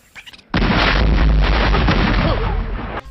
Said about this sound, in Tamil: அண்ணே புல்லட் வெடிண்ணே.